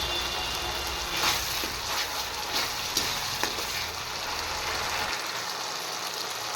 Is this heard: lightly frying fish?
yes